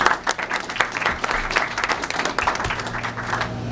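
An audience at a business simulation event applauds, a few seconds of brisk, steady clapping at moderate volume that stays fairly even throughout.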